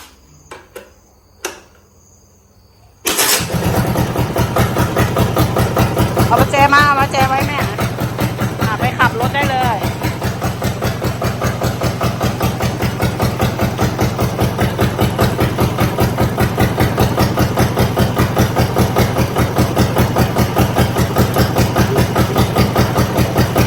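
A small engine, fitted with a hand-crank starter in place of the original pull-start, catches after faint knocks and a short quiet stretch, then idles loudly and steadily with an even throb as voices speak over it.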